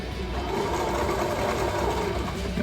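Sewing machine stitching fabric for a baby doll tank top, a steady, loud, fast whirring hum running continuously and close up, with no speech over it.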